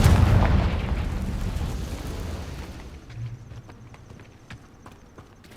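A Confringo blasting spell explodes in Hogwarts Legacy: a loud, deep, rumbling blast that decays over a few seconds, followed by a quieter game ambience with faint scattered clicks.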